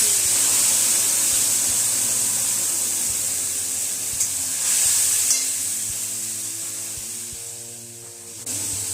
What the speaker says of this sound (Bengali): ফোড়নটা ভাজা হয়ে গেছে, এই যে বেটে রাখা টমেটো, আদা আর কাঁচা লঙ্কা পেস্টটা এর মধ্যে